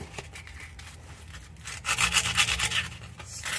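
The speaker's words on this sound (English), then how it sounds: "just start sanding that stuff off" Sandpaper rubs rust off the exhaust clamps of a Lexus RX 350, starting with quiet, uneven scrapes and then growing into louder, rhythmic back-and-forth strokes, close and alone.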